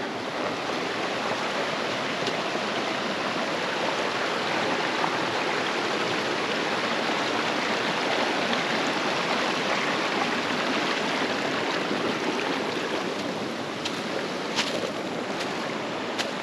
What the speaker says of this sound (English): This river must have been raging this spring.